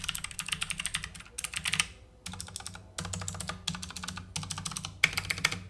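Typing on a Digital Alliance Meca 6 wired 60% mechanical keyboard with clicky switches, bursts of sharp crisp clacks in quick runs separated by short pauses, close and alone with no voices.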